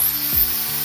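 An electric drill runs steadily during a power measurement, giving a constant motor hum with a brief low thump partway through.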